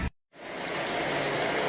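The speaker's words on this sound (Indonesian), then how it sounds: "Duh, hujan euy." Steady rain falls outdoors after a brief moment of silence, a dense even hiss of drops that swells slightly louder toward the end, with no voices.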